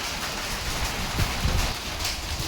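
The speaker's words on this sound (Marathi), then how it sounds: "आणि आता पाऊस यायला लागलाय." Rain beginning to fall during a windy storm with hail, a steady broadband wash of drops with a few low rumbling gusts, fairly close and continuous.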